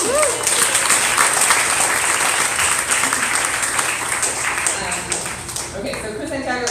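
A live poetry reading audience in Minneapolis applauds poet Chris Santiago, dense, loud clapping filling the room from start to finish and gradually thinning toward the end.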